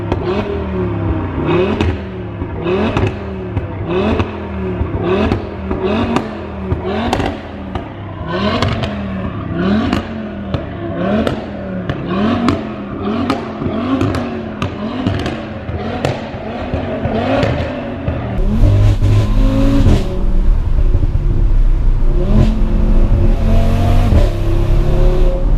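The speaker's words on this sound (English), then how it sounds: "you're getting a loud RS3 that also flames" A loud Audi RS3 Sportback tuned to 500 bhp revs hard in a long run of sharp repeated blips, each surge cracking and popping with flame-spitting backfires, then settles into a heavier, steady roar for the final stretch.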